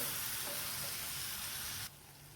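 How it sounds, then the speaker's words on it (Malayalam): Fenugreek powder and a pinch of turmeric sizzle steadily in hot oil in a pan for a Kerala dry shark fish curry, a continuous close frying hiss that drops abruptly quieter near the end, with no talk. "നല്ലതുപോലെ ഒന്ന് ഇളക്കി കൊടുക്കാം."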